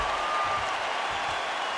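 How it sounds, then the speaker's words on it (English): A capacity arena crowd at a UFC middleweight fight in Saudi Arabia gives a standing ovation, a continuous roar of clapping and cheering at a steady loud level, with a commentator's voice faintly mixed in. "standing ovation from this capacity crowd"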